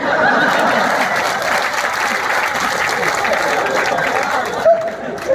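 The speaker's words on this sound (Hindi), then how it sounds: "तालियां बढ़िया वाली बजती है यहाँ पे" Audience applause at a Hindi comedy poetry show, sustained dense clapping with crowd noise and some chuckling throughout, fairly loud and steady, with a brief sharp accent near the end.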